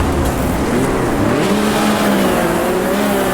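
A race car engine drones loudly and steadily in Automobilista 2 as the car spins against the wall on the final lap, with rising and falling engine tones but no distinct crash impact.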